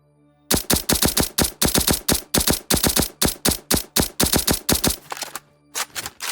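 Assault rifle fire from Bad Business rattles out as loud, sharp, evenly spaced shots in a long rapid burst, then a brief pause and a few more shots, with no talking.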